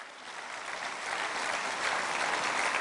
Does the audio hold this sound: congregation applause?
yes